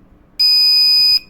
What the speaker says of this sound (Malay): So saya akan connect button ni, button satu, iaitu di atas ni, kepada buzzer saya.